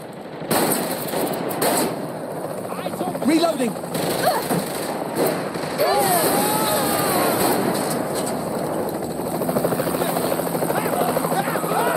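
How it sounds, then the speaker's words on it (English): Helicopter in the video game Saints Row: The Third Remastered, a steady rotor drone running throughout alongside game effects, with voices talking over it. "A helicopter?"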